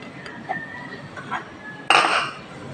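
Light clinks of utensils in a bowl while chicken macaroni salad is mixed with carrots, onion, cheese, raisins and pineapple, a few soft taps followed by a louder, busier clatter and scrape near the end.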